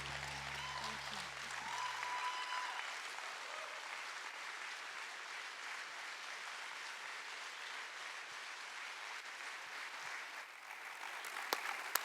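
Applause from an audience at a general assembly after a song performance, a continuous even patter of many hands lasting several seconds, with a lingering musical tone at the very start that fades out early.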